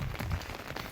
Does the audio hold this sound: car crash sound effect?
no